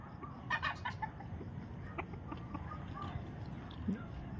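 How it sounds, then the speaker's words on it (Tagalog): Chickens cluck in a farmyard, with a short burst of clucking early on and scattered faint calls over steady outdoor noise, and a voice speaking quietly at times. "Kainin niya na lahat ng manok dito."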